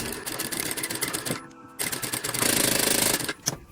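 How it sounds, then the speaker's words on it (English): Sewing machine stitching a lined drawstring bag, a close, continuous mechanical whirr with rapid clicking and brief changes in pace, heard alone. "here you can see we are sewing from this pin, and we have a hole for our string"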